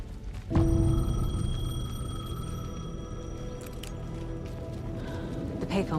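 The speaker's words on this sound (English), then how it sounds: "The payphone was ringing." A payphone rings in the horror game Alan Wake 2 with a sustained, steady electronic ring that starts abruptly after a moment of quiet and holds under a low, dark ambient rumble, moderately loud and near.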